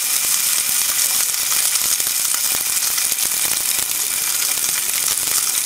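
Sesame-crusted tuna sears in a smoking-hot pan, giving a loud, steady sizzle and crackle that runs continuously with no talking.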